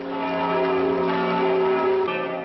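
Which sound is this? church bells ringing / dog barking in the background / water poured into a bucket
church bells ringing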